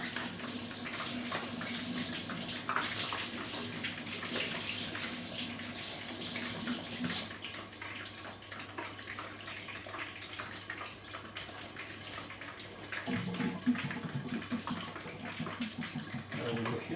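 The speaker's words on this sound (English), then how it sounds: "I'm just going to wash my hands" A kitchen tap runs steadily while hands are washed, a continuous close splashing stream that shifts to a softer, thinner flow midway before rising again near the end.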